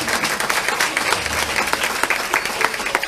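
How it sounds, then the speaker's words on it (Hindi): Devotees at a Bhagavatam discourse in Delhi clap loudly and steadily, a dense burst of applause filling the hall with no voices standing out. "इसलिए आप लोग के लिए जोर से ताली बजाएं"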